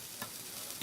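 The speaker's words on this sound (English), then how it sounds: "Look at that sizzle. Did you hear that? Relax, it's just the grill." Hot subs sizzling on a grill at a Jersey Mike's, a steady close frying hiss with two brief louder crackling bursts.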